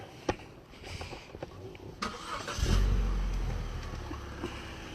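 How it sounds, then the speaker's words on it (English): A car engine starting outdoors near an old train station: a few clicks and knocks, then the engine turns over and catches with a loud low rumble that settles into a steady idle. "Hope nobody else jumped when he started that car then."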